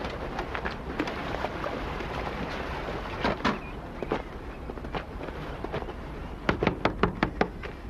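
Knocking on a door in a 1990s Italian TV drama, sharp separate raps, sparse at first and then a quick burst of several knocks near the end, fairly close with no speech over them.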